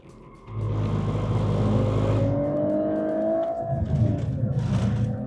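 A high-performance car drives hard around a race track, its engine roaring loudly and climbing in pitch under acceleration, then easing and surging again as it is pushed out of corners.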